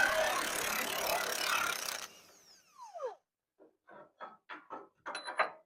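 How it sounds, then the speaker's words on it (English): Wrenching on bolts that hold a spreader to the frame of an International bucket truck, a broadband mechanical burst followed by a series of short ratcheting clicks in quick, uneven succession, close by with no talk. "we got 3 bolts down each side of this thing we got to take loose so that we can get this spreader off the frame"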